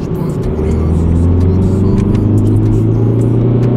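A small Ford car being driven, its engine giving a loud, steady drone and whir that holds evenly throughout without clear revving.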